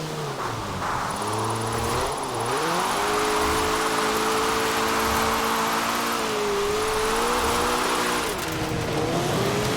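Abarth 124 Spider engine drives in Forza Horizon 4, a loud, steady engine drone with pitch rising and falling through gear changes and throttle shifts, continuous throughout with no talk.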